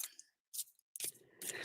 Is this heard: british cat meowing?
no